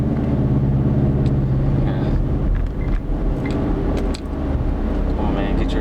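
Steady low engine drone and road rumble from a 2015 Subaru Legacy with its muffler deleted, heard from inside while cruising, loud and continuous, with brief talk over it.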